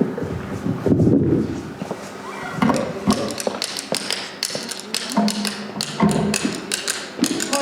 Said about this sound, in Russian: я взяла с собой народный инструмент немножко. Такой, как трещотка, стик.